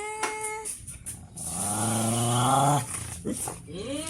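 A small dog growls steadily while guarding a rice bowl at home, a low rumbling growl rising to a snarl, with someone talking around it.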